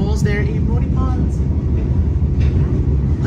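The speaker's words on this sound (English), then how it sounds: "we see here in the train to go to Moonee Ponds" A Melbourne commuter train heading to Moonee Ponds gives a constant low rumble and rattle from inside the carriage, while voices talk close by over the top of it.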